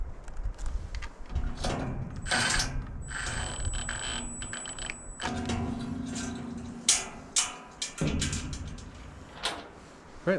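Metal clicks, ratcheting and clanks come in bursts as a cut length of chain is screwed onto the tailgate of a Diamond C trailer, close and uneven with short pauses.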